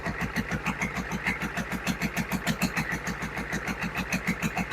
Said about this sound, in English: Notice how the motor falls back to idle, doesn't stumble or anything, goes right back to idle from high RPMs.